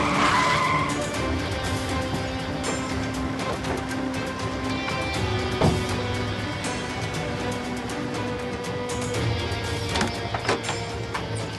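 A car skids to a stop at the roadside during a tense confrontation, with continuous broadband tire and road noise filling the whole stretch, steady and fairly loud with occasional sharper bursts.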